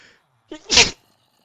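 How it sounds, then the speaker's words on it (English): A single sharp sneeze, close and loud, preceded by a brief intake of breath, then silence. "I didn't mean to sneeze."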